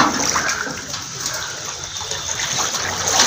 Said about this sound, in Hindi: पूरा बैरक पानी पानी हो गया है।